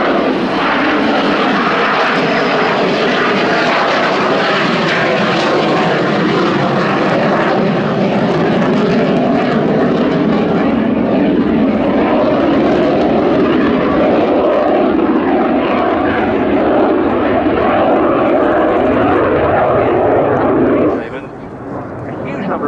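A MiG-21 LanceR jet fighter, an upgraded MiG-21 with head-up display, roars past at an air show, a loud continuous engine rush that holds steady for most of the clip, then drops away sharply near the end as a commentator talks over it.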